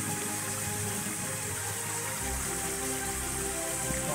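A waterfall in the Serra de Caldas pours into a small grotto below a rock wall, a constant broadband rushing of falling water heard steadily throughout.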